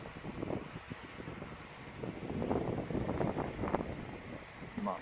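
Gusty outdoor wind buffeting a microphone in bursts that swell and ease, with clattering and bouncing noises mixed in during pole archery practice.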